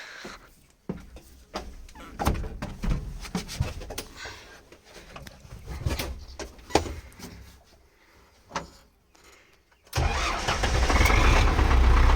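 A farm vehicle pulling a sprayer for buckwheat starts up: scattered clunks and mechanical knocks, then the engine bursts into a loud, steady running roar for the last couple of seconds.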